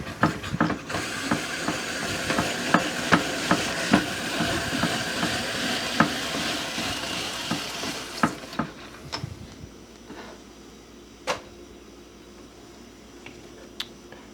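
A hand-cranked apple peeler corer slicer works through an apple, producing a close, rhythmic run of mechanical clicks and scraping turns that slows and thins out into scattered clacks.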